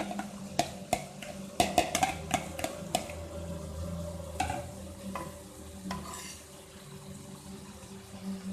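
Rice, cauliflower and mixed vegetables for pulao are stirred on a hot tawa: a run of sharp spatula scrapes and clinks over a steady, quiet sizzle, easing into softer mixing toward the end.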